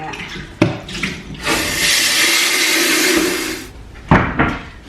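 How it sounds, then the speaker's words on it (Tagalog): Rice being washed under running tap water in a home kitchen: a steady loud rush of water into a bowl, with short clinks and handling knocks before and after. "tapos hugasan ng kanin"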